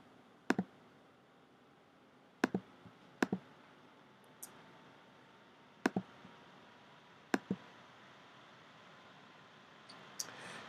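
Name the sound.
mouse clicking while deleting templates on Weebly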